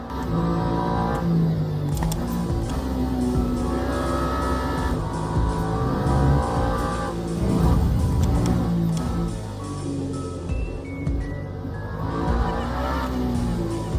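A Toyota race car in Le Mans Ultimate roars continuously up close, the engine note rising and falling through gear changes with brief tire squeal and skidding, loud throughout and without talking.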